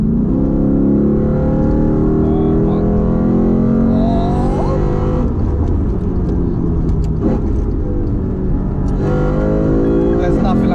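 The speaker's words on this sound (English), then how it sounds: "There's nothing like a damn V8" The V8 engine of a 2008 Lexus IS F revs and roars continuously at close range, its deep rumble rising and falling.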